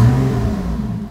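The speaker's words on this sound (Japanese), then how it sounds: "エンジンかかるの早いね。" A Lotus 3-Eleven road-version sports car engine starts up and settles into a loud, close idle with a steady low hum, heard alone without talk.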